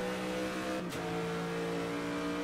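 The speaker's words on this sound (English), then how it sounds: "the sound of the Aston Martin ringing in our ears, as it always does" Sustained tonal engine whine of an Aston Martin race car in an endurance sim-racing event, holding a steady pitch with a brief dip and shift partway through, loud and continuous, with no voices.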